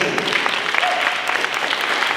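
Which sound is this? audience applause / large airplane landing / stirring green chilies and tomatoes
audience applause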